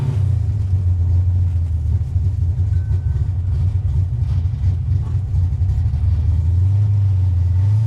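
Carbureted car engine after a carburetor conversion, a steady close low rumble that swells slightly near the end with no voices, sounding more like a held idle or light throttle than sharp revs.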